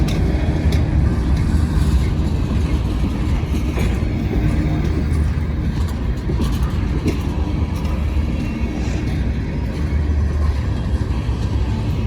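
A northbound freight train carrying truck frames rumbles past close by, a steady heavy roar with rattling wheels and faint clickety-clack running throughout, with no voices.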